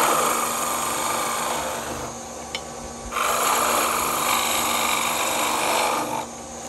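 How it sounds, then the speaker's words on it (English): A wood blank spins on a Shopsmith lathe while a gouge rounds it, giving a steady rasping cut over the machine's hum that breaks off briefly around the middle, then resumes. "So I put another blank piece in, just rounding it out with the gouge"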